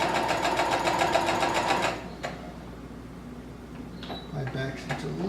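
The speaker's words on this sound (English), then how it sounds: "I'm going to back stitch." Sewing machine back stitching a tunic, a close, fast rhythmic whirring and clatter for about two seconds that stops abruptly, then light handling clicks and a brief voice.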